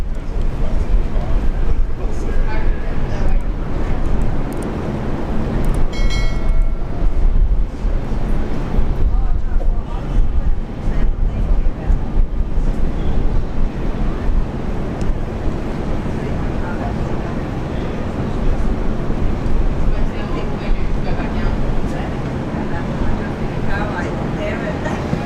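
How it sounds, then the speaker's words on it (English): An Airbus A320 departs Brisbane airport with a sustained, loud, broadband jet roar that rises and holds over about twenty-five seconds, with people talking at times over the noise. "Flight 813 heading off to Sydney this morning. That's an Airbus"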